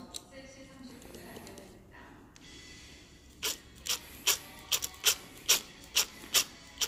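A Phillips screwdriver turns the roller height adjuster on a sliding window, giving about ten evenly spaced, close ratcheting clicks after some soft rubbing, while someone talks quietly at the start.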